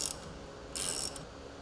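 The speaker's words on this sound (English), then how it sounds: "counterhold and remove the lower shock fastener and nut from the upper control arm and discard the nut" Quick ratchet clicking while removing fasteners from a Polaris RZR front suspension, two short faint bursts of rapid metallic ticks close by, with no talk.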